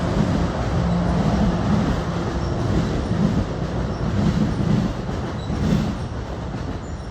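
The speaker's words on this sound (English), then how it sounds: "Another train." A train rolls past close by, a loud continuous rumble with rhythmic wheel clatter and faint squeals, no voices.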